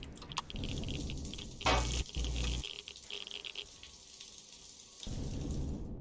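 A shower runs in the multiplayer space survival game Empyrion: a rushing, hissing spray of water with a few dull thuds mixed in. It fades back briefly partway through and then returns.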